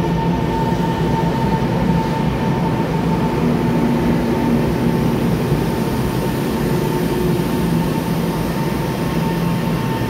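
An EMU723+EMU724 local electric train arriving makes a loud, steady rumble with a constant motor hum that holds unchanged throughout, with no voices.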